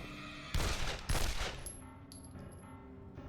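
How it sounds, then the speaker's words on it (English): Gunfire in the video game Condemned: Criminal Origins, where a police officer is shot: two loud bursts of shots close together near the start, then a quieter tail with faint clatter and one sharp hit at the end. "later shoots two other police officers in front of Ethan with his gun"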